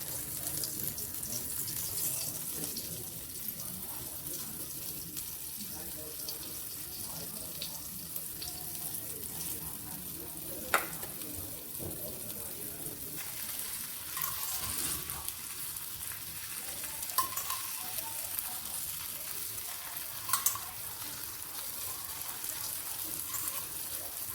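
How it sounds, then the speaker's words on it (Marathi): Slices of elephant foot yam fry gently in a pan over a low flame, giving a soft, even, continuous sizzle with a few faint clicks. "बारीक गॅसवर ही आपल्याला फ्राय करायची आहे सात ते आठ मिनिट लागतात"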